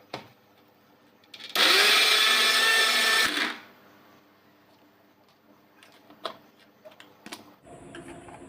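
A kitchen mixer grinder blends green chilli, onion, coriander, garlic and ginger into a paste for Punjabi-style egg curry, running loud and steady for about two seconds before stopping, followed by quieter clatter and small kitchen knocks.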